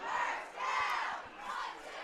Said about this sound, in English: always cheering whenever there's a first down for their offense